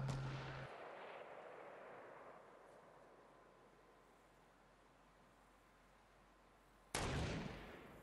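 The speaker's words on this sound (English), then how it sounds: "They're shooting at another team." Distant gunfire from another squad in Fortnite, a low rumbling boom that fades slowly over several seconds, followed by a second sharp, louder blast near the end.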